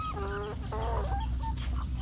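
Chickens cluck repeatedly at close range with short rising and falling calls, part of a flock being fed on a small farm in Laos, over steady low background noise.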